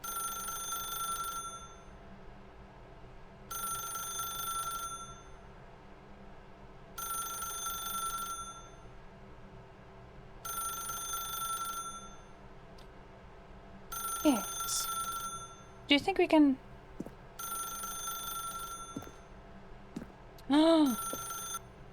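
A telephone rings in The Stanley Parable, repeated bell-like bursts at a steady interval, with a voice speaking briefly over the later rings.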